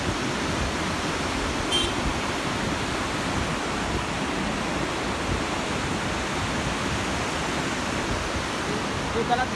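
The Alaknanda river rushes past near Mana village in Badrinath, a loud, steady roar of white water that fills the whole stretch without letting up.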